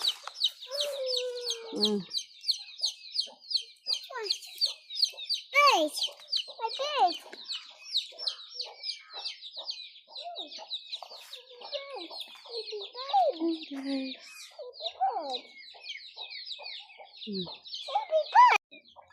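Chickens and a rooster cluck and chirp steadily on a farm plot, near and fairly loud, with sharp calls over a dense run of clucking and brief bits of a voice among them.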